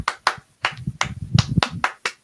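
Hand claps in a live football watchalong, a loose burst of about eight sharp claps close to the microphone, uneven in rhythm, with low murmuring voices underneath.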